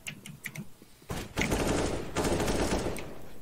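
Rapid automatic gunfire from a first-person shooter game, with a few scattered shots followed by a long sustained burst of rattling fire, loud and with almost no talk.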